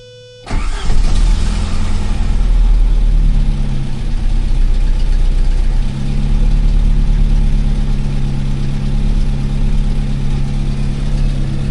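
Saab car engine fires up after a vacuum advance rebuild, catching with a sudden loud start and then running at a smooth, steady idle nearby for several seconds, its hum briefly dipping before resuming.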